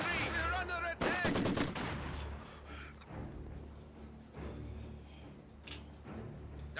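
Enemy gunfire in the Company of Heroes 2 video game, Eastern Front campaign: loud bursts of shots and rapid fire rattle throughout with a heavy low rumble, mixed with game sound effects and occasional shouted voices.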